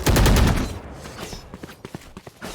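Rapid automatic gunfire in the tactical shooter Valorant during a kill, a loud dense burst at the start that drops off quickly, followed by lighter scattered footsteps and clicks in a quieter stretch.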